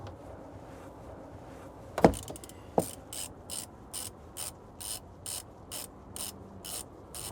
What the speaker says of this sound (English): Okay, so you want to get a ratchet.